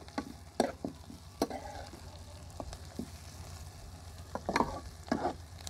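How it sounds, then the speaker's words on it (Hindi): Onions fry with ginger and garlic in a pan for a potato kofta curry, giving a faint, steady sizzle broken by irregular scraping strokes of a spoon stirring against the pan, heard fairly close. "लहसुन अदरक डाल के मैंने 2 मिनट बुनाई कर लिया।"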